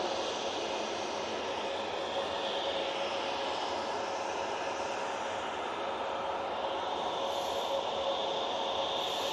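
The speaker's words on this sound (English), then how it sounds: "This is the Lufthansa City flight to Munich using the A320neo" Lufthansa City Airbus A320neo flight to Munich at Manchester Airport, a continuous moderate jet engine whine and hiss holding steady throughout, heard from some distance with no voices.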